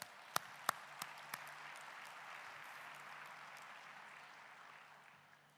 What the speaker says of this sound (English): I think we should give a big round of applause to those children who participated this morning and played and performed so well